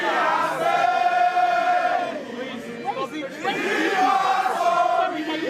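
Supporters of Peter Obi gather on the doorstep of a London think tank, a loud crowd of voices rising together in sustained, chant-like calls that swell and fall across several seconds.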